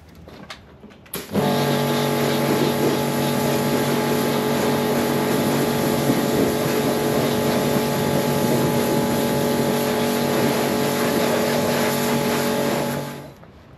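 Motorcycle engine started and left running to warm up, a steady loud idle with a constant hum holding evenly for about twelve seconds before cutting off.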